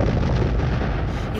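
A dense, loud rumbling boom of an explosion sound effect, continuous and heavy throughout, with no voices.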